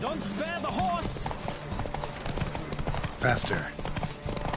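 Horses galloping in The Witcher 3 during a race toward Zerrikanian Bay, a steady clatter of hoofbeats close by with occasional snorts, under music and bursts of speech.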